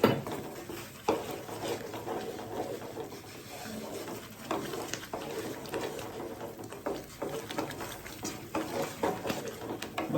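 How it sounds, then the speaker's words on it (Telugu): Khoa being stirred into carrot halwa in a pan, a steady scraping and clinking of a spoon against the metal with soft wet patter, close and continuous with no talk. "దీనికోసం అనేసి కోవా వేసాను. బాగా మిక్స్ చేసుకోవాలి."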